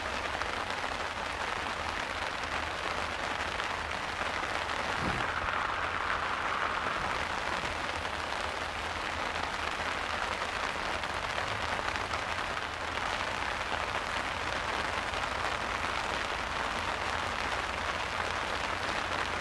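Heavy rain pours steadily over a fishing spot at Stalham Staithe, a dense, even hiss that holds for the whole stretch with no pauses and no voices.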